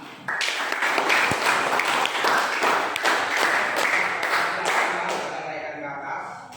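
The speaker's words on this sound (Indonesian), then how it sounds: "Oke, silakan tepuk tangan." An audience claps and applauds at a school presentation, dense steady clapping building quickly and sustaining before tapering off near the end, close and moderately loud.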